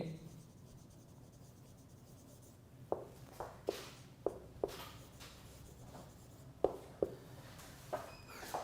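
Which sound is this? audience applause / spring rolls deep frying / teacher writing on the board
teacher writing on the board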